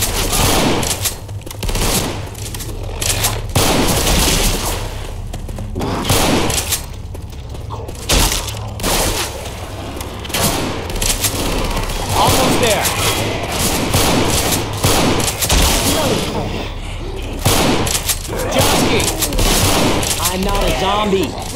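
Left 4 Dead 2 gameplay with gunfire shooting at zombies, dense rapid bursts and single shots crackling almost without pause, loud and near, with shouted voices mixed in.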